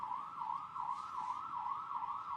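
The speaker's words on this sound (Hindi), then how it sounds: "सायरन की आवाज आ रही है।" An emergency siren wails from the road during a live broadcast from a car, a steady rising-and-falling tone that is faint and distant and repeats in regular cycles.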